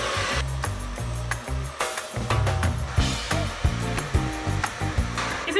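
A DevaCurl hand diffuser hair dryer blows with a loud, steady whooshing hum that changes in pitch and tone partway through, with some handling clicks and thumps.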